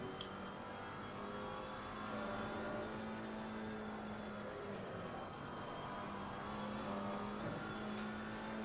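A GT4 race car engine in the Assetto Corsa Competizione racing game drones faintly and steadily in the background, rising and easing slightly as the car is driven.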